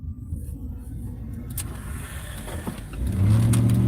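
Cab interior of a truck driving along a road, a steady low engine rumble with road noise, swelling louder near the end as the engine pulls harder; no talk.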